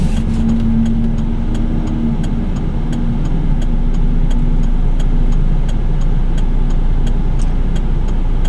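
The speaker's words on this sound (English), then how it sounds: "See all the traffic on San Pedro. It is one busy street." Heavy traffic flows along busy San Pedro street: a loud, continuous roar of car engines passing close by, with steady rumble and occasional regular ticking clicks layered on top.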